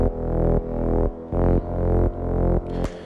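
Fuzzy recorded bass line for an organic house track, shaped by a volume envelope with a little reverb, pulsing in deep, rounded notes that repeat about every half second.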